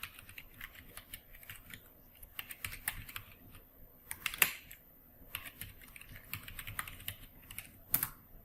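A password typed on a computer keyboard: light, close key clicks in uneven bursts and pauses, with a few sharper strokes standing out, quiet throughout.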